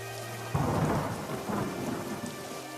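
Heavy rain pours steadily in a cold-season downpour while a deep thunder rumble breaks in early and rolls on under the rain, with no talking.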